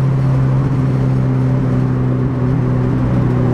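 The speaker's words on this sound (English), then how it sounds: "Downshift sound like, holy shit!" Subaru BRZ with a custom exhaust droning steadily from inside the car, a loud low engine hum with a constant tone and no clear rev spikes across a few seconds.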